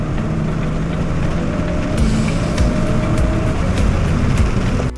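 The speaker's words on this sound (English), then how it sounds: "Medium acceleration test." A 2021 Chevy Spark with a CVT pulling away at medium acceleration, heard from inside as a continuous engine drone with rising tonal whine and road rumble.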